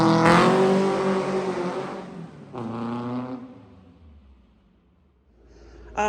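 A slammed VW Beetle launches hard, its engine revving high and loud up close through the gears, then easing off as it pulls away before a brief burst returns at the end.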